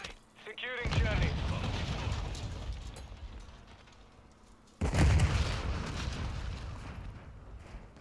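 A grenade detonates in Call of Duty: Modern Warfare II, a sudden loud broadband blast that rumbles and decays over a few seconds, with an earlier explosive burst and voices talking beneath the gunfight din.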